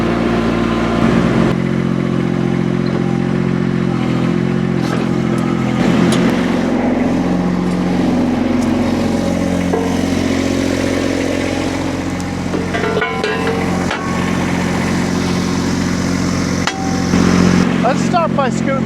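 A Rippa RS06-1 mini skid steer's small engine drones steadily and loud up close throughout, with occasional knocks and clanks over the running motor.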